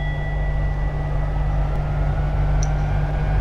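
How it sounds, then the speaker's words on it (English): A steady electric hum with a constant whine drones on unchanged, the rheostatic brakes of a Class 86 locomotive in Train Simulator, with no voices. "And that noise is the rheostatic brakes"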